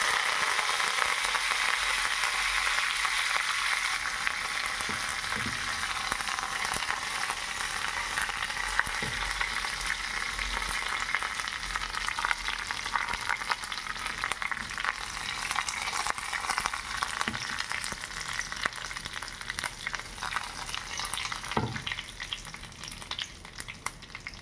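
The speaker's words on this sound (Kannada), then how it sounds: "ಕರಿಬೇವು ಸೊಪ್ಪು ಹಾಕ್ತಾಯಿದ್ದೀನಿ" Mustard seeds and curry leaves fry in hot oil as the tempering for a Havyaka-style raw jackfruit sambar, giving a continuous hiss with scattered crackles and pops, close and alone with no voices.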